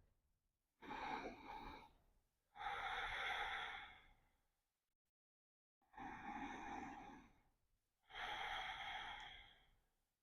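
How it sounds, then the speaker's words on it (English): Ujjayi ocean breathing during a yoga session, four slow, airy, throat-constricted breaths, each a soft rushing whoosh separated by short pauses, close and quiet with no talking. "this breathing technique is known as our ujjayi, loosely translated as our victorious breath"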